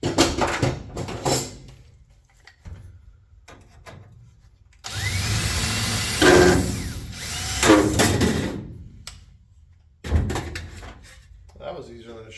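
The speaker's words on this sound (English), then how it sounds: "So I'm going to drill those out" A power drill whirs in a few sustained bursts, speeding up and slowing, with clanks of parts and brief talk between runs.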